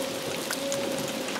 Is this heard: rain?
yes